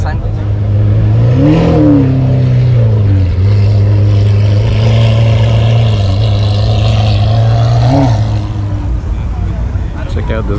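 A McLaren sports car engine drones loudly up close, rising in pitch twice as it revs and then settling back to a steady idle, with voices talking over it.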